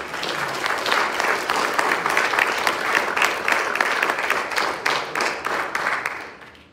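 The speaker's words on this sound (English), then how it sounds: "clap for his word." A church congregation applauds at the close of a Sunday sermon, a dense, even wash of many hands clapping that fades out at the end.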